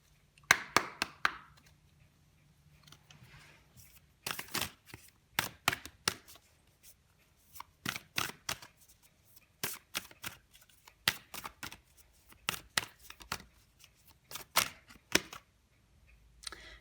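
Moonology oracle cards being shuffled: a quiet room with repeated sharp, crisp riffling bursts in irregular clusters, close and fairly soft, with no talking.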